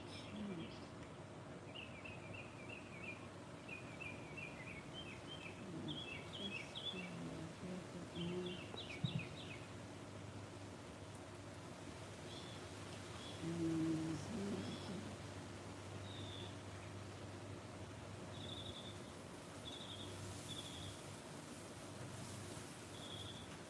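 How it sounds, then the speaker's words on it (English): Small birds chirp in short, quick trills that come and go, faint and somewhat distant over a soft, steady background hum, with no voices. "Birds chirping, oh, great."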